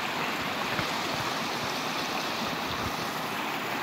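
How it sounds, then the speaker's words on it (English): Fresh mountain spring water flowing outdoors, a steady close rushing and splashing with an even, unbroken texture and no voices. "Some fresh mountain spring water."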